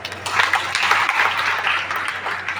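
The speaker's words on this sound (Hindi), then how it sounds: "एक बार 2 तालियां हो जाए।" Seminar audience at an RCM motivational seminar in Arrah clapping together, a steady burst of many hands lasting a couple of seconds, close and moderately loud over a low hum.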